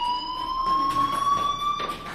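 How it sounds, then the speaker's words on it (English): A fire alarm in the video game Life is Strange rings out as a loud, sustained electronic tone that holds steady with slight pitch drift, set against faint background noise. "Hey, do you hear that fire alarm?"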